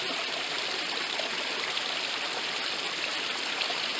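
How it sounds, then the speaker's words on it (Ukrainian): A forest stream flows steadily and close by, a continuous broadband rush of water with no pauses, no talking and no other sounds over the full length. "Але гріх, щоб тут, у лісі, біля такого чудового потока"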